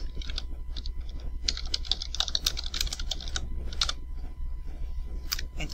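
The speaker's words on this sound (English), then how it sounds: "type your keywords into the search box" Rapid typing on a computer keyboard, entering search keywords: irregular bursts of close, crisp key clicks with short pauses, over a steady low hum and no talking.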